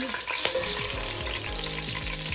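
Onions go into hot oil for a chicken and urad dal dish and fry with a loud, close, crackling sizzle, accompanied by repeated scraping stirs of a spoon against the pan and no voices.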